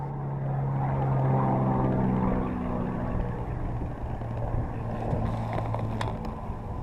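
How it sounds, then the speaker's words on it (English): A heavy piston aircraft engine drones overhead near Duxford Aerodrome, a steady low throbbing hum that swells and then slowly fades, with faint crackles near the end. "I hear the unmistakable sound of a big piston aero engine, possibly a Rolls-Royce Merlin in a Spitfire"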